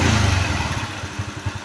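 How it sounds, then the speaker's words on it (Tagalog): Motorcycle engine with aftermarket cams, carburetor, valve springs and CDI idles with a light, rhythmic valve tick, starting with a brief rev and then settling into a steady, close-up mechanical clatter. "Halos same lang din sila ng lagitik ng sa stock."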